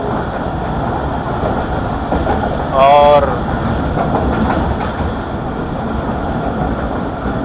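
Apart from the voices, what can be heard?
Marvi Passenger train running fast through Thar Desert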